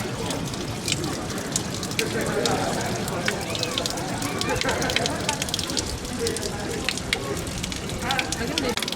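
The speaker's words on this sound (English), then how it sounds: "And you've got this nice fountain. I think there's some water coming out." A public fountain in the old town of Rimini, Italy, runs steadily with continuous splashing water that sits under outdoor ambience while people talk nearby.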